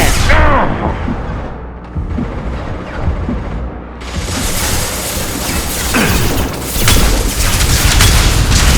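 Gunfire and booming impacts in the video game Mass Effect 2, a dense, loud barrage of shots and bursts throughout, with a sharp escalation partway through.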